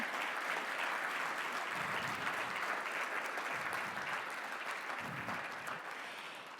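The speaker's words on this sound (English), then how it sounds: "let's give a big round of applause for this community" Conference audience applauding at Explorance World 2024, a dense, sustained wash of clapping from a large crowd that holds steady for several seconds before easing slightly at the end.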